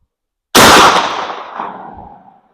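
A single loud shotgun blast firing an LBC sabot slug at an 80-yard range, with a sharp onset and a long rolling echo that fades over about two seconds.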